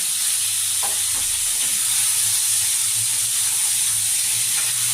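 Potatoes and mixed vegetables fry lightly in a pan, giving a continuous soft sizzle that runs evenly for five seconds with no talking.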